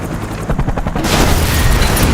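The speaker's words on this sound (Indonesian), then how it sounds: "Hingga helikopter itu pun hancur." A helicopter is destroyed when a car crashes into it in the action film Die Hard 4. Scattered rumbling thuds give way to a loud, sustained, roaring explosive blast that fills the rest of the moment.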